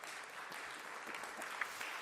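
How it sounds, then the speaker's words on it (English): Faint, even applause from a gathered audience welcomes a guest, a soft continuous patter of clapping heard from a distance. "let's give a wow applause for Miss Kim Bellis today"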